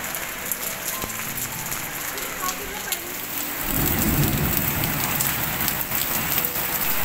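Rain falls steadily on surfaces outdoors, a dense continuous patter that swells noticeably heavier partway through, with no clear talking.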